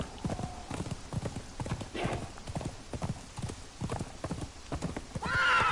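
Horses in the Conan Exiles Riders of Hyboria game, steady clip-clopping hooves throughout with a whinny partway through and another near the end, quiet speech faintly underneath.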